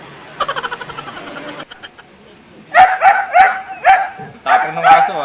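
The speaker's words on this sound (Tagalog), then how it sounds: "Tapang ng aso ah." Dog barking close by, several loud, sharp barks in quick bursts, preceded by a short run of rapid rhythmic yips or patter.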